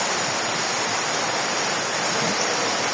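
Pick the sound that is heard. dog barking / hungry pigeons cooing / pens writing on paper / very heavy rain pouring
very heavy rain pouring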